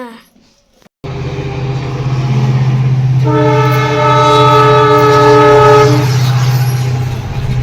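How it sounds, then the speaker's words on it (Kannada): A train runs along an overhead track near a house, its deep rumble swelling loud and close as a long horn blast sounds through the middle and then fades. "ಇಲ್ಲಿ ನಾವು ಮ್ಯಾಲೆ ಟ್ರೈನ್ ಹೋಗೋದು ಕಾಣ್ತದೆ ನೋಡ್ರಿ"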